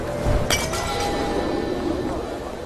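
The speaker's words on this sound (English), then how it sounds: "we'll throw the bottle so it shatters just in front of the manhole" A glass bottle shatters on the ground in Hitman Absolution: one sharp crash and tinkle near the half-second mark, over a steady murmur of game ambience.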